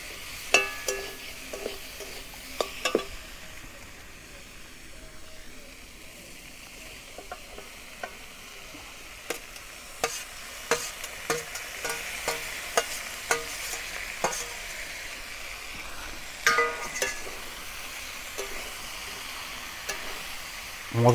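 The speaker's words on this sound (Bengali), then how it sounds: "সব সবজিগুলোকে এইভাবে একটু ভালো করে কষিয়ে নেব।" Fried vegetables and fried fish head being stir-fried with spices in a pan for Bengali navratna curry, a low continuous sizzle broken by frequent sharp spatula taps and scrapes over a long stretch.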